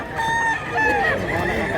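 A rooster crows at an outdoor chicken market in Mantalungon, Cebu, with a drawn-out, wavering call close by and other fowl clucking and faint crowd noise behind it.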